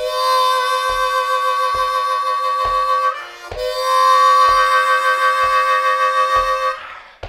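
A Bb harmonica plays the opening lick: bright sustained double-stop chords over a steady clicking beat, held for about three seconds, a short break, then the phrase again, close and loud.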